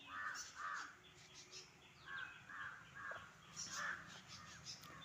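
Wild crows caw repeatedly in the open, a series of harsh calls in loose pairs and triplets, moderately near, with small birds chirping faintly in the background.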